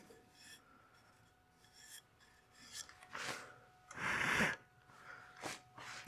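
A woodturning scraper cuts a succulent planter on a lathe, giving bursts of harsh scraping and rasping between quieter stretches, with a loud sustained pass near the middle and a faint steady hum beneath.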